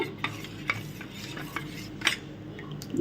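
A spoon stirs rusk powder into maida batter in a bowl, with soft scraping and a few light clinks against the side at irregular intervals, quiet and close, with no voices.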